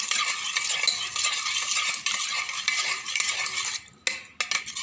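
A spoon scrapes and clinks steadily around a bowl, stirring thick yogurt in quick repeated strokes, close up with no voices.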